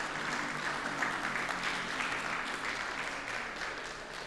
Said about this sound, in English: Let us give her a good round of applause.